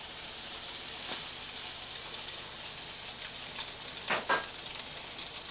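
Food sears in a hot oiled pan, a steady faint crackling sizzle with a few brief louder spits and scrapes, no voices.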